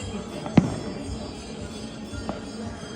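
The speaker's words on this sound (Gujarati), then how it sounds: "ફટાકડા જોઈ દો તમે ખાલી" A single sharp distant firecracker bang pops out, followed later by a fainter second burst, over a low steady background hum, during Makar Sankranti celebrations.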